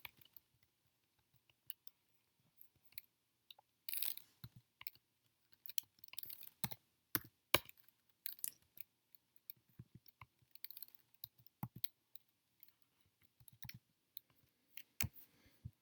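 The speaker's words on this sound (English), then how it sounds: "fast forward if you don't want to watch me typing all this in" Quiet, irregular clicks of small buttons being pressed, scattered in short bursts with pauses, like someone tapping a calculator keypad up close.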